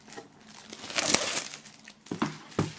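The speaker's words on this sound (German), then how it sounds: "Und dann geben wir mal die Folie weg." Plastic shrink wrap crinkles and tears as it is pulled off a boxed album, a run of close crackling rustles that swell in the middle, followed by a few sharp separate crinkles.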